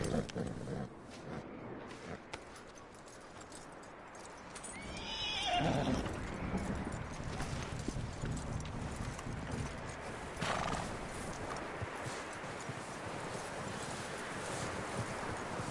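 In Red Dead Redemption 2, a horse whinnies loudly with a rising and falling cry over a steady rush of clip-clopping hooves and wind noise, continuing for several seconds.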